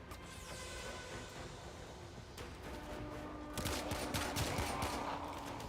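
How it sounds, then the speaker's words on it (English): Video game gunfire as a player fires a nearly unmodded Lotto rifle at enemies: rapid, continuous shots layered over busy, dense game noise, steady and fairly quiet throughout, with no speech. "I'm shooting this nearly unmodded Lotto at these enemies"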